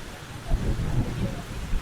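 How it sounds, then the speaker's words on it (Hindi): Rain falling in a steady, close hiss with a low rumbling undertone, continuous through a short stretch with slight swells in loudness. "Oh no! It is raining."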